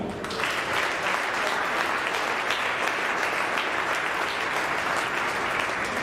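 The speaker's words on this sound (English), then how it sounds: "Please join me in thanking our seniors with a round of applause" A crowd at a high school boys basketball game claps steadily and loudly for several seconds, a dense, sustained round of applause without pause.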